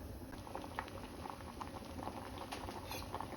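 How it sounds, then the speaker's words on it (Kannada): Vegetable dal sambar boiling in a pot, steady dense bubbling and popping throughout with soft irregular patter, close and continuous with no talk. "ಈಗ ಸಾಂಬಾರು ಚೆನ್ನಾಗಿ ಕುದೀತಾ ಇದೆ."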